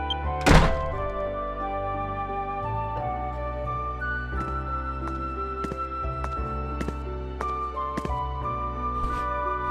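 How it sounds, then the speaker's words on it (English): Heavy thuds of banging on a door in the Wii game Dragon Quest Swords, one loud knock rising over ongoing orchestral game music, followed by fainter percussive hits. "Who's that banging on the door at tea time?"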